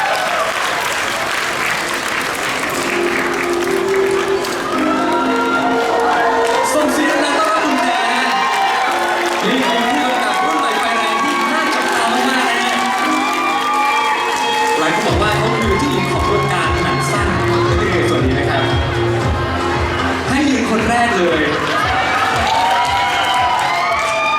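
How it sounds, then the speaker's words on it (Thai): A large crowd applauding steadily and cheering for the whole stretch at a film gala premiere, with music playing underneath. "ขอเสียงปรบมือต้อนรับ คุณแพรจิรัชยาวงสุทิมนะฮะ"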